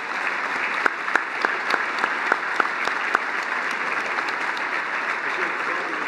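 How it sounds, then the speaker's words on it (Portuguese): Gala audience at a 30th anniversary celebration applauds Mr. Frank Dittmann, a steady roll of clapping with a few sharper, closer claps standing out near the start. "uma salva de palmas para o Sr."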